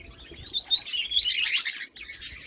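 Caged diamond doves, canaries and budgerigars chirp and twitter continuously close by, bright overlapping calls and short trills filling the space without any talk.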